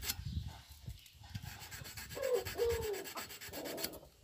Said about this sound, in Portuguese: com a lixa dessa aqui, ó, uma lixa fina, dobra ela dobradinha assim, ó